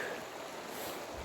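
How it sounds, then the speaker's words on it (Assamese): A rocky river near Bhalukpong on the Assam–Arunachal border, full of stones, flows with a fast current: a faint, continuous rushing wash of water with no voices. "আৰু কিমান সোঁত চাওক পানীৰ"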